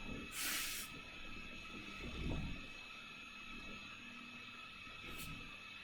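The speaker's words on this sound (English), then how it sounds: "the cleaner that she is using is the Meyer's all-purpose cleaner from Walmart" A trigger bottle of Meyer's all-purpose cleaner is sprayed in a bedroom, with one strong hiss near the start and a second shorter spritz near the end, both close over quiet room noise with light handling sounds between.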